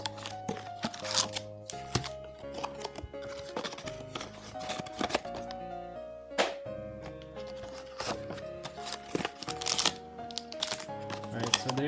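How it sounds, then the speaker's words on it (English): Pokémon Prismatic Evolutions booster packs are shuffled by hand, giving rapid crinkly foil rustles and papery flicks in uneven bursts, heard up close under background music. "we shuffle the packs"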